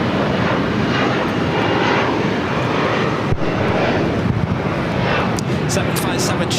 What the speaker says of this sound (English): This flight heading to Santa Rosa, California. It's an E175LR, Alaska SkyWest, flight 3304.